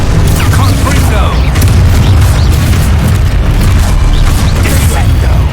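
A Confringo fire spell explodes in the video game Hogwarts Legacy on PC amid loud combat, with heavy booming bursts and continuous rumbling blasts filling the whole stretch at full volume, close and dense with no pause.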